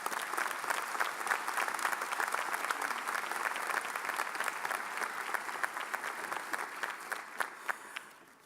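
A commencement crowd at the 2016 UB School of Public Health ceremony claps to welcome the speaker, a full, sustained round of applause that gradually tapers off.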